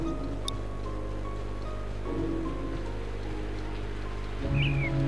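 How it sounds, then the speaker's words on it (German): Steady rain falling in the Harry Potter and the Prisoner of Azkaban video game, a soft even hiss with a faint bird call and low game ambience, no talking. "Ah, ist das schön herrlich, wie das da regnet."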